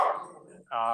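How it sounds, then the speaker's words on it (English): A dog barks in a loud, harmonic burst at the start and again near the end, with a short quieter gap between the outbursts, all close to the microphone. "my dog's going nuts"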